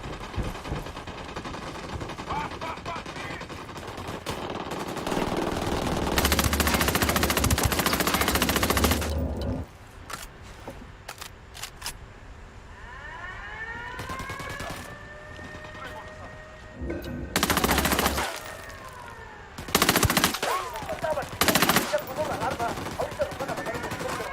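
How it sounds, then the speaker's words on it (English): Rapid bursts of automatic gunfire in the tactical shooter Ghost Recon Wildlands, loud and sustained in stretches with sharper isolated shots between, mixed with game effects and voices talking. "They're firing."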